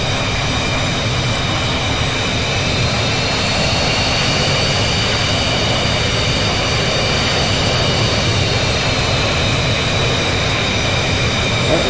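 A jet engine, the second of two, spins up and runs in the VTOL VR flight game, a loud steady roar with a high whine holding constant throughout, no voices.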